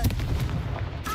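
A burst from the Confringo spell in Hogwarts Legacy lands as a short, heavy blast with a thick low rumble that carries through its brief length.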